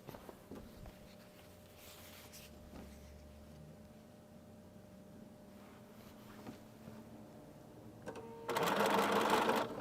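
A sewing machine stitches a quilt in quiet close bursts of rapid mechanical whirring with short pauses between them, then ends in one louder, faster run of stitching.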